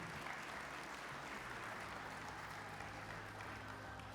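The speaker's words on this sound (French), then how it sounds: "Vous pouvez l'applaudir, oui." Applause in the hall at the Cuisines en Scènes 2015 cooking competition, for a technical jury member being introduced, steady and continuous, faint and distant, with a low hum beneath.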